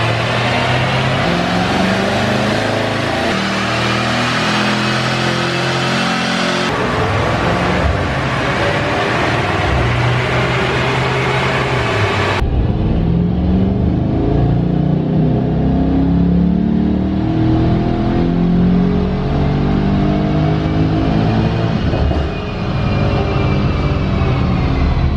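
A 2018 Mercedes-AMG E63 S engine roars continuously at high revs on a dyno for a long stretch, its pitch climbing and shifting through loud sustained pulls, with no talking.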